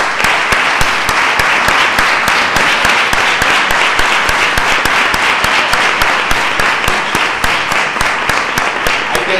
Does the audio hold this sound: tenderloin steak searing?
no